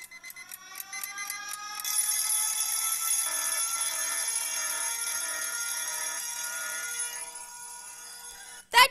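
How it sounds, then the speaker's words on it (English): An electronic ringtone called Extreme Alarm Clock: rapid repeated beeps that swell into a loud, continuous shrill ringing for several seconds, ending abruptly. "This is the Extreme Alarm Clock."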